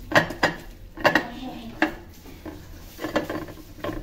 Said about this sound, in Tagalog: Tusok-tusokin ko muna ng tinidor, guys.